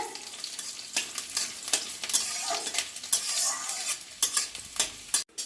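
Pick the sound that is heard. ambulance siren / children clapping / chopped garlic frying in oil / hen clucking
chopped garlic frying in oil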